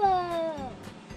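A cat inside a camper gives one short, close meow that slides downward in pitch, followed by faint rustling.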